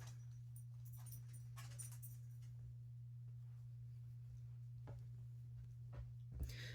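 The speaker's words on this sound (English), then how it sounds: "And there's a dog." A dog whimpering and yipping in short bursts, fairly quiet and close, over a constant low hum with no speech.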